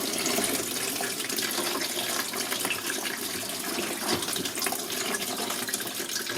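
Coolant pouring steadily out of a Renault Twingo 1 engine during a timing belt replacement, a continuous close liquid gush and trickle with no break across the whole stretch.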